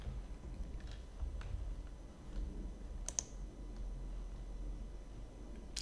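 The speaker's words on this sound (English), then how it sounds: "I'll go ahead and just type that in" Soft keystrokes on a computer keyboard, a few scattered clicks with brief pauses over a faint room hum, quiet and fairly close.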